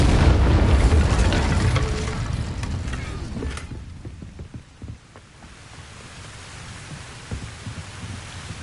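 Incendio fire spell cast in Hogwarts Legacy, a loud whooshing burst of flame with a booming roar that fades over several seconds into quieter crackling and faint pops.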